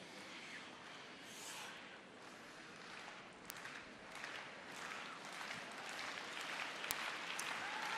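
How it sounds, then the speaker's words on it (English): Spectators at a figure skating Grand Prix event in France clap in a soft, distant rink ambience, the applause building gradually with a couple of sharp claps standing out. "great to hear the audience here starting to applaud in anticipation of the first skater to compete"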